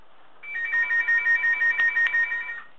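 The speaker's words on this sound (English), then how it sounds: "Is that you calling, Bill?" A telephone rings indoors in a steady, pulsing electronic trill of about eight even bursts, clear and moderately close, with no one talking over it.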